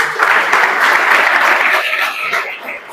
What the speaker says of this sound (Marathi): म्हणून मला असं वाटतं या सगळ्या रोल मॉडेलसाठी खरं आपण टाळ्या वाजवतो.